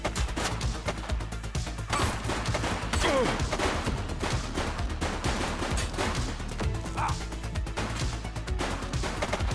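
Dense, continuous bursts of gunfire fill the whole stretch in a shootout with a bad guy, loud and close, with rapid overlapping shots and crashing impacts and no quiet gaps.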